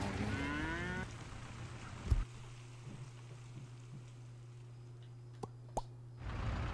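A cow moos in the physics game Wobbly Life, one low sustained call of a few seconds with a few soft plops and thuds around it, fairly quiet and alone.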